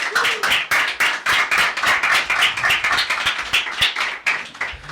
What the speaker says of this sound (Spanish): Por un fuerte aplauso para Raúl